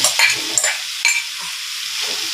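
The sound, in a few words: okra being added and stirred in a frying pan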